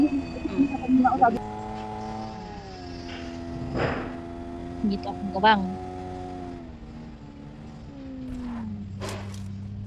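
A car engine in PUBG Mobile hums at a steady, low drone with slight pitch shifts as it drives, and scattered thuds appear while a player talks over it.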